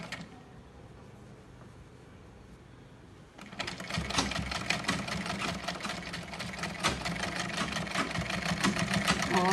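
A sewing machine stitches right along the edge of a homemade cloth face mask. After about three seconds of near quiet, the motor starts and runs in a steady, close, rapid whir until the end.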